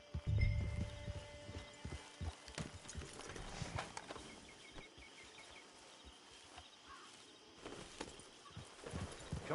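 Horse hooves clip-clop steadily at close range in the Red Dead video game, with some faint ambient noise around them and no talk.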